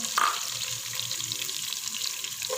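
Vegetables for veg fried rice, including carrots, capsicum, peas and potatoes, hit a hot frying pan with a continuous loud sizzle and hiss that holds steady throughout, with no voices.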